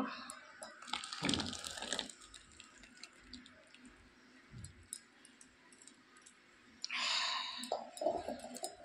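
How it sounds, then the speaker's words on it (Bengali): Jaggery syrup being poured into a bowl in a home kitchen, with short bursts of liquid splashing and trickling, a pause with faint clinks and drips in between, then another brief pour near the end. "এখন গুড়টা এটা ভিতরে ঢেলে দেব"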